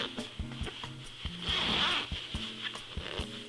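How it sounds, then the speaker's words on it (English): A winter jacket zipper is pulled open in short rasping strokes, then one longer, louder zip in the middle, close up, with small clicks and handling noise between pulls. "I'm going to unzip the other side of the zipper."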